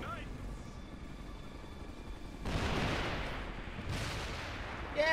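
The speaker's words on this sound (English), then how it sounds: "Hostile choppers! They got us zeroed in!" Hostile helicopters and gunfire in the video game Ghost Recon Future Soldier, a steady roar of rotor and engine noise with bursts of louder broadband firing and explosions swelling midway, fairly loud throughout.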